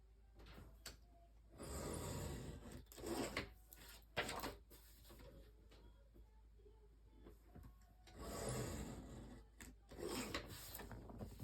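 A craft paper cutter trims paper for a mini album in quiet, close scraping slides, with two separate bursts of rasping blade strokes and small handling clicks between them.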